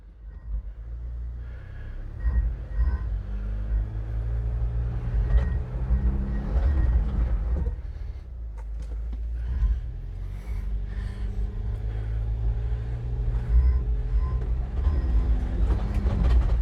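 Off-road vehicle crawling the rocky Red Cone Pass trail in Colorado, a steady low engine rumble that swells and eases throughout as the driver works the steering, with no talk over it.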